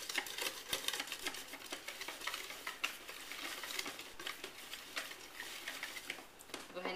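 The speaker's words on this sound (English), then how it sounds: "So I'm not over stirring it. I'm not using beaters because it's kind of like a muffin mix" Cake batter is stirred by hand with a spoon in a bowl, without beaters, giving a continuous soft scraping and clicking at close range, quiet and steady throughout.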